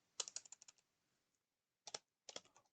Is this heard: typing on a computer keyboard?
yes